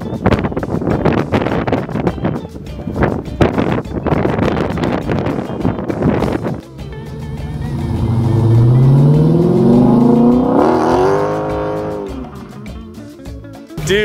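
A 2015 Dodge Challenger doing a burnout: heavy wind buffeting on the microphone gives way to the engine revving up loudly, its pitch climbing and holding, then easing off near the end.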